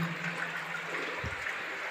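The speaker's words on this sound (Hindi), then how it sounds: "ये शंकर जी की जटाएं अविरल धारा इसमें बह रही है।" Water flows steadily in an underground cave, a continuous rushing stream that fills the space, with one brief low thump near the end and no voices.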